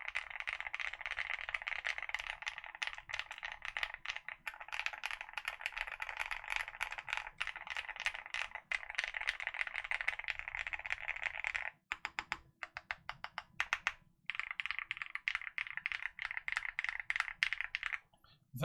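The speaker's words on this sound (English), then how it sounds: "when I start typing and the sounds of the typing are picked up" Keystrokes on a Matrix Labs Fuakwaa keyboard fitted with Ashes R2 switches clack in quick, continuous bursts, close and crisp, with brief pauses between runs and no talking.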